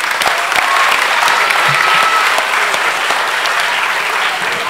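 Steady, loud applause from an audience at a Christmas food, dance and carol event organised by the Lyceum of Greek Women in Agios Nikolaos, holding dense and even throughout with no talking.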